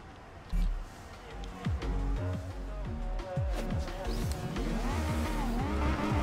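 A small five-cylinder engine of an Audi RS2 Avant in Forza Horizon 2 revs and shifts through gears while drifting, with tire squeal and rising and falling engine tones over steady background noise.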